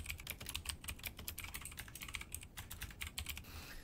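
A card number typed on a computer keyboard while registering for a TOEFL test online, a steady stream of rapid, light key clicks, quiet and close, pausing briefly near the end.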